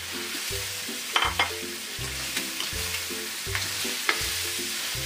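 Pork pochero stirred in a frying pan, with a steady sizzle and a repeated rhythmic scraping and clatter of the utensil against the pan, close and fairly loud, with no voices.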